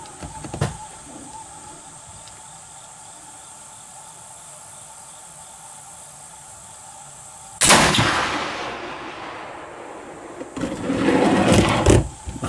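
Rifle shots while sighting in for deer season, outdoors: a faint sharp crack comes early, then a loud blast with a long trailing echo, and another burst of rumbling noise near the end.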